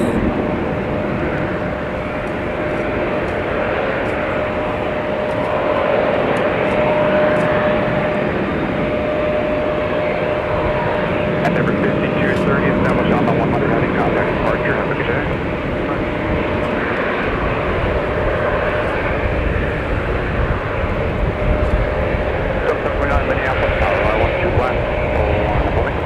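An Endeavor Air CRJ 900LR jet at Minneapolis–St. Paul Airport during a winter storm gives a steady, loud engine roar with a sustained whine, and a voice talks over it throughout.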